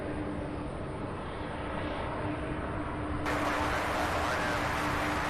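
A Delta Airlines Embraer E175 jet comes in to land on runway 35 right, its engine roar steady and loud, then swelling into a broader rush partway through as the aircraft nears.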